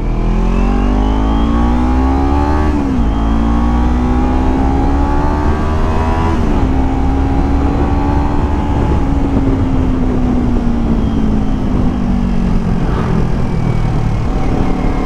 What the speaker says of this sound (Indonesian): tipikal knalpot slip on ya. Jadi suara mesinnya tuh masih kedengeran banget